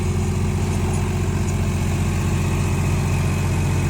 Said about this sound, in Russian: огромнейший вилочный погрузчик Komatsu D45